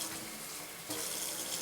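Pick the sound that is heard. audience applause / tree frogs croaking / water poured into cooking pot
water poured into cooking pot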